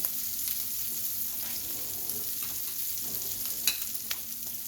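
A vegan chickpea burger patty frying in a pan on medium-high heat gives a steady, close crackling sizzle with a few sharp pops and light scrapes, no voices.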